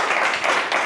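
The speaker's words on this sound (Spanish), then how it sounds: "por favor, un grandísimo aplauso" An audience at a talk on rural depopulation claps briefly, a dense steady burst of applause that fills the short moment without any voices over it.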